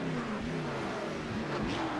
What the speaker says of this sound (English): Montanado's revving his engine, sitting in pit road